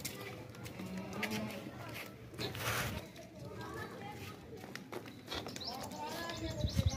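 A goat and her young kid make brief bleats at a livestock market, partly under steady nearby talking and background crowd noise.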